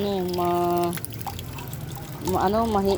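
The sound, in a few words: watering a potted plant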